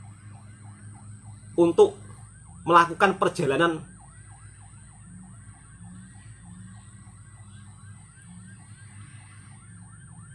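An ambulance siren wails steadily in traffic in Malaysia, a faint, repeating rising-and-falling tone heard from a distance, with someone talking briefly over it.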